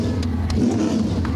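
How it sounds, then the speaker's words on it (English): NASCAR stock car engines start and rumble at a EuroNASCAR 2 round of the 2024 NASCAR GP UK, making a steady, dense low engine drone with faint revving swells throughout. "Drivers, start your engines!"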